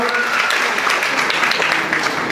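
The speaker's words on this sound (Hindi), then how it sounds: "जोरदार तालियों से स्वागत कीजिए।" Loud, dense clapping from an audience welcoming someone at a girls' life-building camp in Vashi, a steady wash of applause running throughout with no pauses.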